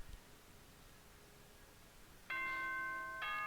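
Announcement chime from the Danganronpa video game rings out abruptly after a near-silent stretch, a loud, sustained bell-like tone that holds and then briefly dips before continuing.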